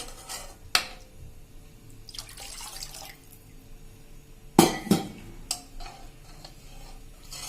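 Water poured into a cooking pot for a Kathiyawadi whole-onion curry, heard as a brief splash and trickle between light clinks of vessels, with a sharper clatter and pour midway.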